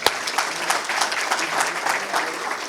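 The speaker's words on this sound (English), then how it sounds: "So one more round of applause." An audience applauds at a school district ceremony honoring campus teachers of the year. Steady, dense clapping that is fairly loud and close, with no speech over it.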